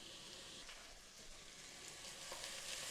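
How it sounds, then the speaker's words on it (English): Diced onions frying in hot oil in a pan, a quiet, steady crackling sizzle with soft bursts of spitting throughout. "when the oil is hot, I add the diced onions."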